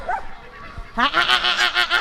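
A dog acting as a watchdog on a farm gives a quick run of sharp, yelping barks, close and loud, after a brief quieter whine at the start.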